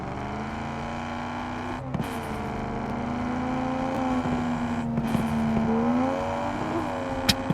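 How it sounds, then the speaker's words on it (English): A video-game car with an inline-six engine in Drive Beyond Horizons, towing a trailer, its engine note climbing and holding as it spools up, fairly quiet with a few brief clicks and shifts along the way. "Just listening to that little inline six spool up."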